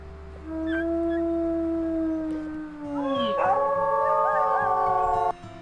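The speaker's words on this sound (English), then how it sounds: "Let's do a howl." A wolf pack howls in the video game WolfQuest. One long, rising howl is joined by more voices, and they form a layered chorus of tones that shift and waver, hold steady, and then stop suddenly.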